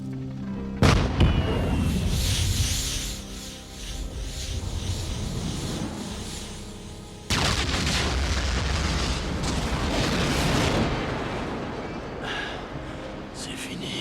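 A rocket fired and exploding in an action film, with a sharp blast onset followed by a long rumbling roar, then a second heavy burst of noise that sustains loudly to the end.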